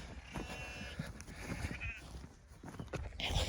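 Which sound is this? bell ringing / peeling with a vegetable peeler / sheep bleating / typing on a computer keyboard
sheep bleating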